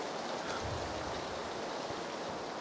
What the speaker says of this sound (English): Why are they doing this rainy shit?